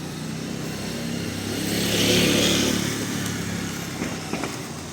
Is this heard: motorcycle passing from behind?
yes